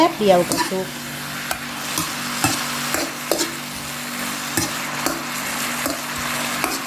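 Water spinach stir-fried over high heat in a wok, a steady sizzle beneath repeated scraping and stirring strokes from a spatula, close and moderately loud, with faint background voices.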